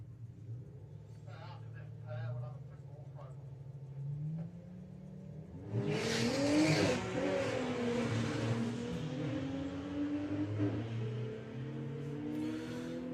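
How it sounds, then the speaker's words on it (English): A VW Golf VR6 on a drag strip at a Bug Jam event, its engine rumbling at idle before a loud, harsh surge of revving and acceleration that sustains, with people talking over it throughout. "So Tom out in front with the VR6 Golf"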